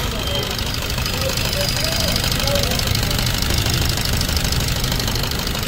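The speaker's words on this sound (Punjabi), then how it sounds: "ਇੰਜਨ ਦੀ ਸਾਊਂਡ ਤੁਸੀਂ ਸੁਣ ਲਓ ਕਿੰਨਾ ਫਰਕ ਪੈ ਗਿਆ।" A car engine idles after a timing chain major service, a steady, loud, continuous running drone with no pauses.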